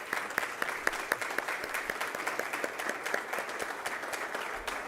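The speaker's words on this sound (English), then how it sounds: "let's give them a big round of applause" Audience applause for a couple of parents at a community gathering, steady clapping from a mid-sized crowd held at a moderate level with distinct individual claps standing out.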